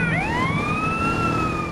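Wailing police siren from a motorbike in Grand Theft Auto San Andreas, its rising and falling tone sweeping steadily over a constant engine and traffic rumble, loud and close with no talking.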